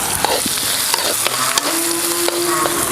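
Chopped garlic and ginger fry in a pan with a steady, close sizzle, punctuated by a few sharp crackles and scraping stirs.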